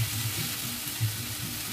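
Green peas frying with homemade ground spices in a pan give a soft, steady sizzle with faint stirring, quiet and brief, no voices.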